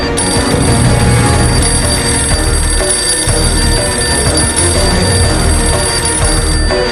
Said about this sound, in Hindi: तभी फिर से बजी फोन की घंटी